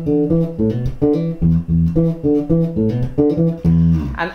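Bass line of a song, played in E: a loud, punchy, syncopated groove of short repeated notes with a steady funk rhythm, close and alone, rising to a sustained note at the end.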